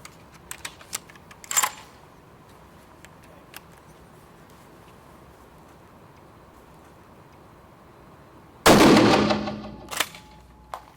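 Rifle shots at an indoor shooting range: a few sharp cracks early on and one loud, echoing report near the end, with quiet stretches between.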